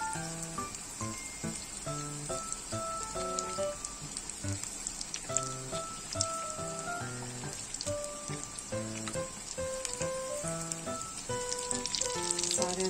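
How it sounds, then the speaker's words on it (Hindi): Chicken cheese kebabs fry in a shallow pan, four at a time, giving a continuous fine crackling sizzle like light rain that runs steadily beneath melodic background music. "पैन में खाली चार ही आए हैं तो हम इसको चार को ही डाल के फ्राई करेंगे"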